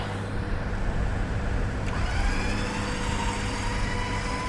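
Truck buried in mud, its engine held at a moderate, steady drone with a slight rise in revs midway, heard at a medium distance without voices.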